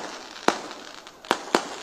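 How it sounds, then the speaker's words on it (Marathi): Firecrackers burst at a political rally in Sangola with three sharp, loud bangs, one early and two close together near the end, over a low murmur of crowd ambience. "फटाके बंद करा, फटाके"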